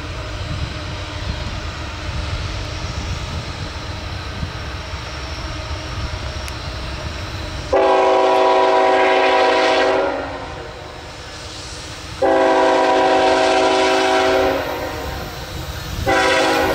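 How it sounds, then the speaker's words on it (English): An intermodal freight train rumbles past at Front Royal, Virginia, under a low continuous roar, then sounds its horn in two long, loud blasts and a brief third. "Not 30 minutes after 23Q was another intermodal train"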